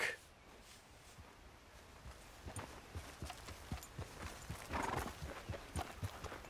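Horse hooves clip-clop at a steady walking rhythm in a video game, with a short whinny near the start and louder hoof falls toward the end, heard fairly close.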